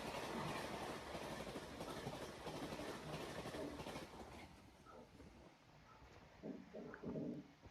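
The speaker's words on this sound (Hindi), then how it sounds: "अच्छा, ये वो वाली तेजस जो भारत की पहली प्राइवेट ट्रेन बनी थी।" An Indian Railways Tejas express from Lucknow Junction to New Delhi rolls past with a steady rumbling clatter of wheels on track that fades, then a few louder knocks near the end, and no talking.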